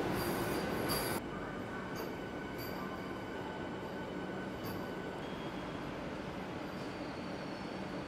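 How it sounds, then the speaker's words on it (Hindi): The Begampura Express, running from Varanasi to Jammu Tawi, shrieks with high, sustained wheel squeal as it brakes to a stop at a junction station, loudest at the start and continuing over a steady rumble of wheels. "डिपार्चर नहीं हुआ, जस्ट रुक गई ट्रेन वापस फिर से"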